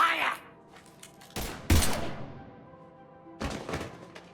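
Gunfire in the Mass Effect 3 video game: a few heavy thudding shots in separate loud bursts, with brief voice traces between them.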